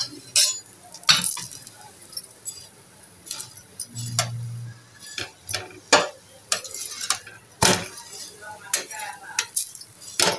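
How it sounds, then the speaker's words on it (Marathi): Methi thepla roasting on a hot griddle turned to medium gas, with scattered sharp clinks and taps of a spatula against the pan, a brief low hum, and faint sizzling underneath; no talking. "दोन्ही साईडने छान असे आपण ठेपले आपले शेकून घेऊया."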